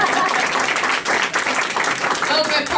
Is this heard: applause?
yes